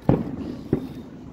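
Two sharp, close fireworks or firecracker pops at a backyard New Year show, about half a second apart, each with a short rumbling tail, with no voices.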